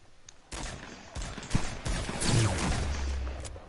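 Rapid bursts of video game gunfire crackle through a firefight, with sharp shots and automatic volleys overlapping at close range, loud and continuous.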